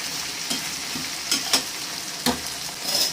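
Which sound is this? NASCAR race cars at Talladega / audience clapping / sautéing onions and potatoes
sautéing onions and potatoes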